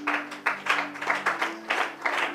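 A church congregation claps during a French-language sermon, a steady rhythmic beat of hand claps, moderately loud and close, with a faint sustained tone underneath and no speech.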